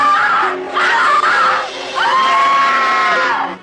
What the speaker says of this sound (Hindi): क्या हुआ मिस आर्मिटेज, आप चिल्ला क्यों रही हैं?